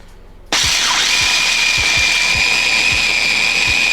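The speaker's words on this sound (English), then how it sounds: "You really wanna grind them up good until they form almost like a powder-like consistency" A food processor starts up and grinds pine nuts with salt, a loud steady whirring motor whine with rhythmic thumping as the nuts tumble against the blade, no voices.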